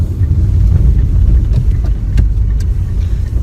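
Car engine drones steadily while driving, a loud, close low rumble with road noise that continues unbroken, with no one speaking.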